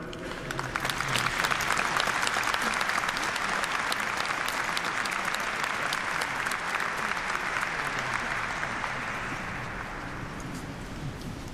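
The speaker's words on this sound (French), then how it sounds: "nous pouvons donc les applaudir" A congregation at a Mass marking the 800th anniversary of the Order of St. Dominic applauds the singers, a loud, dense, even wash of clapping that holds steady and then tapers slightly near the end, with no voices on top.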